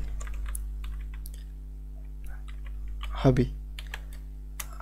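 Keys tapped on a computer keyboard while HTML form code is written, sparse soft clicks under a steady electrical hum, with a short burst of speech near the middle.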